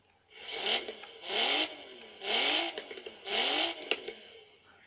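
A car engine in Forza Horizon 3 revs in four separate bursts, each climbing and dropping, with sharp popping crackles between the later revs, loud and close with no talking.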